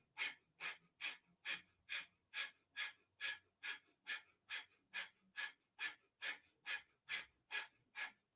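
Deep, forceful rhythmic breathing during a Kundalini yoga class, about eighteen even breath cycles in steady succession, close and clear with no talking.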